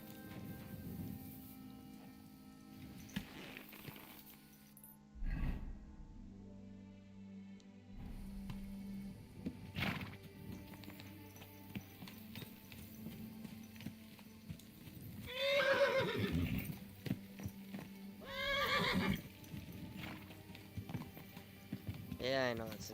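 Horse neighing in Kingdom Come: Deliverance II, two loud close whinnies rising and falling amid hoof clip-clops and game ambience, with someone talking between them.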